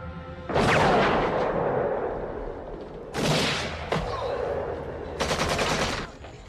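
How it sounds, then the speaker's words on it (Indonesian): Sustained gunfire exchange in a war film, a dense rolling roar of shots with several fresh loud bursts starting in turn and no speech. "Beckett pun langsung menembak sasarannya, yang kemudian para kelompok pemberontak langsung membalas menembak dengan bertubi-tubi"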